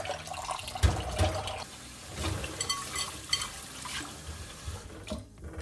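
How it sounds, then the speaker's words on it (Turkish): Rice being rinsed with running water for buttered chicken pilaf, a close splashing and swishing of water in a bowl with uneven surges, no talking. "Tekrar şöyle suyla yıkıyorum."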